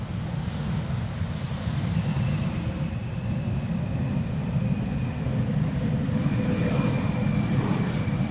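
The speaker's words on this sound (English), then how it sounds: "In the background we have the Emirates A380 almost reaching the main platform area." An Emirates A380 airliner taxis at Amsterdam Schiphol Airport, its engines giving a steady, distant roar and whine that holds at an even level throughout against a broad airport rumble, with no voices.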